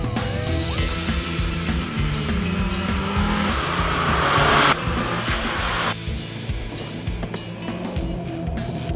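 Alfa Romeo car accelerating hard on a partly wet road in all-weather mode, a loud, continuous engine roar rising steadily with some tire noise, close up and without speech.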